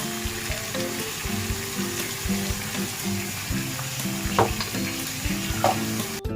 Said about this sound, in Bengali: সবগুলোকে আমি খুব ভালোভাবে মিশিয়ে নেবো